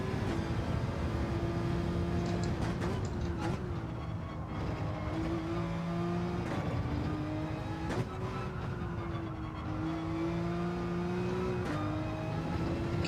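A Gran Turismo race car engine drones steadily throughout, its pitch rising and dipping with each shift and throttle change, loud and continuous with no talking over it.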